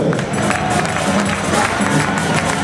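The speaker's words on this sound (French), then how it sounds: "on l'applaudit, mesdames et messieurs." A live audience at the Miss Afrique pageant applauds a strongman who lifted a table with his teeth, dense clapping and crowd noise filling the space continuously.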